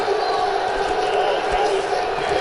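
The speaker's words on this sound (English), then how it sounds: "Crowd here in Canada loving the action they've seen so far at Unleashed." Arena crowd in the UFC 2 video game cheering and roaring steadily at a Canadian event, a dense continuous wall of noise under a commentator's voice.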